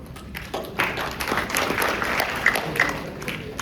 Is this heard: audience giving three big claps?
yes